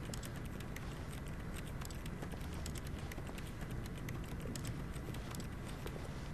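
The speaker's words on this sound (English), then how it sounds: "it sounds like he's clicking a keyboard" Faint rapid keyboard clicking from a character typing at a computer in the video game The Stanley Parable, soft steady taps over a constant low background hum.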